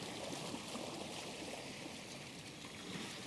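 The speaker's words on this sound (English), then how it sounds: "as you get closer to the sea, you can hear the sea get louder" Sea waves on a calm beach, a steady soft wash of surf that stays even and low, with no voices.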